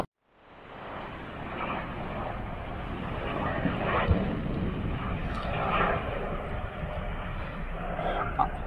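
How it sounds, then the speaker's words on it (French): A helicopter flies over mountain terrain near Lac de la Muzelle, its steady rotor and engine drone fading in at the start and then holding loud and continuous throughout. "Ah, l'hélico."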